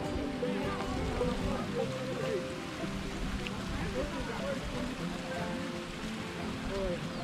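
Water pouring over the spillway of the Pacoti reservoir dam, a steady broad rushing roar heard from a distance and holding without a break throughout.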